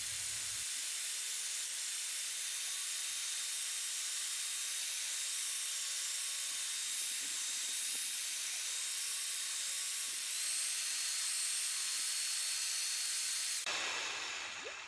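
A mixer stirring roof coating in a bucket gives a steady, loud whirring hiss with a faint high whine, running unbroken for about fourteen seconds before a brief change at the end.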